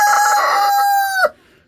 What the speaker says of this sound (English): And Ernie, he'll crow the odd time